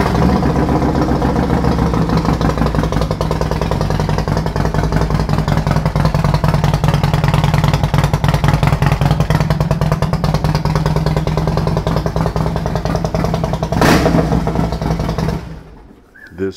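A 2007 Harley-Davidson Deluxe fuel-injected six-speed motorcycle idles loud and close with a heavy, rhythmic lumpy pulse, then is briefly revved before the engine cuts off.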